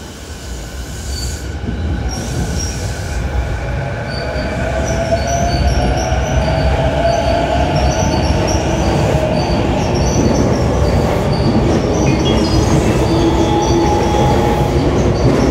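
A JR Chuo Line E233-0 series rapid train pulls out of Tokyo Station with a loud, steady rumble that builds as it gains speed. Wheels squeal and clatter over the rails close by, with no talk.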